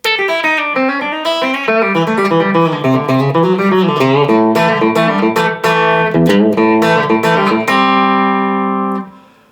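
A bright electric guitar plays a quick, bending country lick of connected notes, ending on a sustained ringing chord that fades out.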